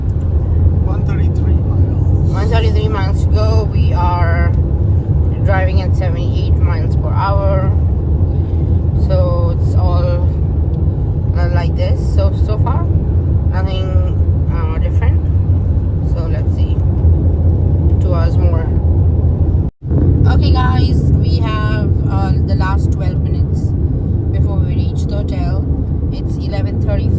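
Steady car road noise at highway speed of about 78, a continuous low rumble throughout, with people talking over it nearly the whole time, on a road trip through Texas.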